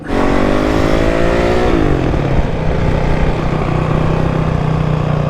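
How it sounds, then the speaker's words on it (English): A stunt motorcycle's engine roars loud and close through a coaster wheelie, its pitch dropping sharply partway through and then holding at a steady, lower drone. "It's so fun to do coasters and then just keep pulling the clutch in all the way till it just dropped down"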